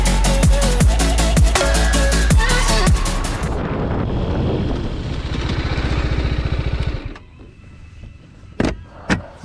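A 2020 TVS Apache RR310 motorcycle engine revs hard in track mode, then winds down as the bike brakes to a stop in an ABS braking test, followed by a few faint knocks and clicks.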